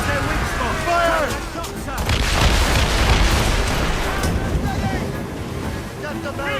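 Ship cannons fire in the naval battles of Assassin's Creed Rogue, with booming blasts in the middle amid rolling waves and wind, while voices shout before and after.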